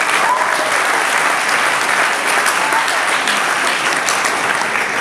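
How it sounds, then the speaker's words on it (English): A large crowd claps steadily throughout at an evening event with Jarvis Landry, a thick, even wash of many hands, loud and sustained with no gaps and no talking over it. "you can clap for that, that's fine."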